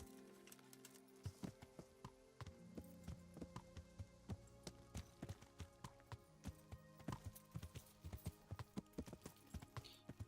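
Horse hooves clip-clop in the Kingdom Come video game, a steady quiet walking rhythm of soft thuds over a faint outdoor ambience.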